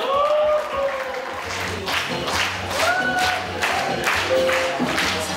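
Loud applause from a crowd at a Korean youth camp event, dense steady clapping with some cheering and brief tones overlaid throughout.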